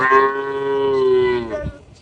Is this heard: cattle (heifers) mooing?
yes